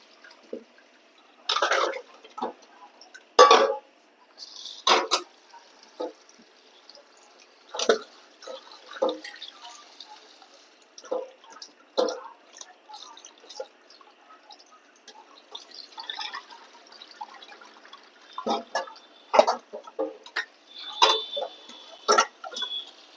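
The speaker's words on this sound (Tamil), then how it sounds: "நிறைய தண்ணி வச்சு கழுவணும்." Vegetables for aviyal being washed by hand in a wide pot full of water, with intermittent splashes, sloshes and drips in irregular bursts, close and fairly quiet, separated by near-silent pauses.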